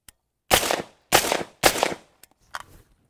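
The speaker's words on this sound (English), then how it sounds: "Let's fire a group, see what happens." A rifle fires a group of shots at an outdoor range: three loud, sharp reports about half a second apart, followed by a fainter fourth crack, each trailing off quickly, with no speech.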